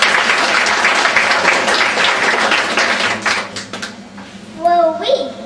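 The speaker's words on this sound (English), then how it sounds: "A round of applause for Carlie." Applause fills a room at a book launch, dense at first and then fading over a few seconds. A voice follows as the clapping dies away.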